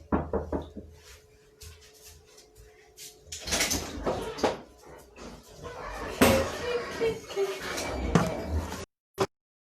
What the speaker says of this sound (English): My girl has been knocking at the door